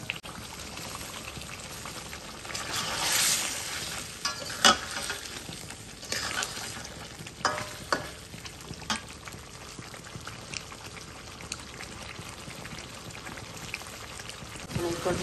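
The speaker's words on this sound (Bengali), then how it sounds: "আমি নেড়ে ছেড়ে ভালো করে মাছটা কষিয়ে নিচ্ছি যতক্ষণ এক্সট্রা গন্ধটা চলে না যায়।" Catfish frying in a pan as it is stirred, a continuous sizzle broken by irregular scraping and clinking of the spoon, close and fairly quiet.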